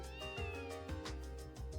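A kitten meows from the game Trails from Zero, a clear drawn-out cry that rises and falls, close and alone over soft in-game background music.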